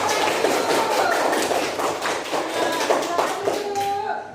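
A classroom of students claps for a classmate, a quick patter of many light hand claps lasting a few seconds, fairly close and even in level.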